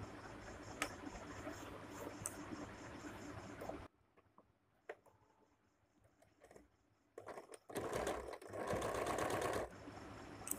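Stitching round pleats on a nighty, a sewing machine runs in a steady whirr, pauses for a few quiet seconds with light clicks, then resumes in short bursts and a longer run.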